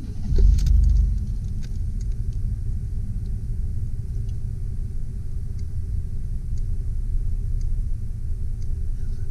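A 1995 Chevrolet Astro conversion van with about 50,000 miles starting up, with a short crank-and-catch at the start settling into a steady, low engine rumble at idle.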